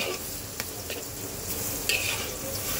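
Taro (kochu) and spices being stirred and fried in a pan for a Bengali kochur chechki, with a steady close sizzle, scraping stirs and a few light clinks of the utensil against the pan.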